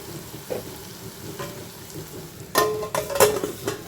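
Tomatoes cooking in a covered pan for Kongu-style prawn thokku give off a soft, steady sizzle. Louder scraping stirs burst in during the last second and a half, with no voices.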